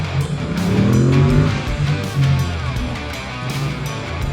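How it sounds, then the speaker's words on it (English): An Audi RS car engine passes inside a multi-storey car park. Its loud, echoing revs rise and then fade as it moves away. "Is that an Audi RS something? Doesn't sound as good as the MT-07."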